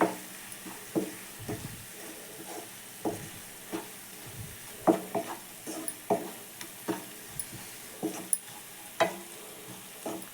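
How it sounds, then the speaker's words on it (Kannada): Chili, turmeric and coriander powders fry in oil for a dhaba-style mushroom gravy, a soft sizzle punctuated by rhythmic stirring scrapes and spoon clicks close by. "ಇದು ಖಾರದ ಪುಡಿ ಧನಿಯಾ ಪುಡಿ ಮತ್ತು ಅರ್ಶಿನದ ಪುಡಿ ಎಣ್ಣೆಲೇ ಫ್ರೈ ಮಾಡ್ಕೊಳ್ಳೋದ್ರಿಂದ"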